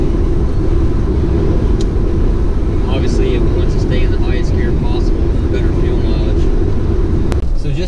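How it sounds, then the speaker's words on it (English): A 2018 Ford F-150 pickup with the 2.7 EcoBoost engine drives through city streets, a steady low engine and road drone heard from inside the cab, constant and fairly loud, with faint chirps over it. "driving the truck in around the city, the truck is very, you know, maneuverable, very nimble"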